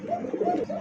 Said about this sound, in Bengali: এটা কিন্তু হাইফ্লার কবুতর, পাকিস্তানি এটা হাইফ্লার কবুতর